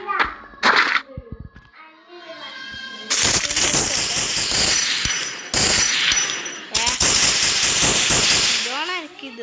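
Sniper gunfire in a video game, loud sharp shots and bursts of firing in long clusters, with excited voices talking over the action.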